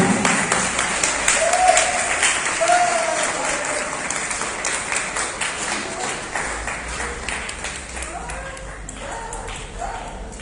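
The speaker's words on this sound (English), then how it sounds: "Can you big round of applause to Vinayak Mishra?" Applause from a crowd at a school prize-giving rises and continues steadily, a bright ringing tone cutting through near the start.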